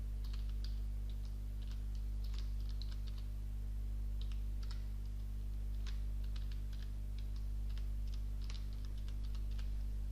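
Irregular, fairly soft keystrokes on a computer keyboard, typed in quick bursts with short pauses, over a steady low electrical hum while a password is entered during Windows Server 2012 setup.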